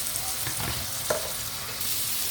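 Vegetables frying in a pan of cooked-down spiced masala, a steady close sizzle with a few brief stirring scrapes, no talking.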